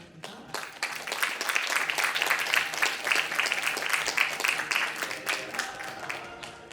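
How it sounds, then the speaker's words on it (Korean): Audience applause welcoming students onto the stage at a gifted-student entrepreneur program graduation and results ceremony, dense steady clapping from a large crowd, sustained and fairly loud with individual claps standing out. "학생들 다시 한번 나올 때 큰 박수로 환영해 주시기 바랍니다"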